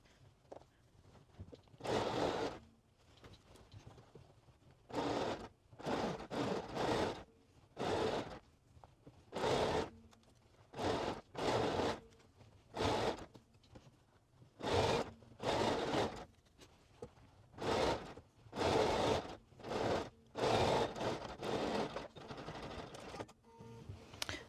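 A sewing machine stitches a trouser waistband across a zipper with nylon teeth, working in repeated short bursts of whirring, close and clear, separated by brief pauses.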